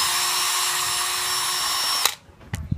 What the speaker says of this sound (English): we're going to drill two holes.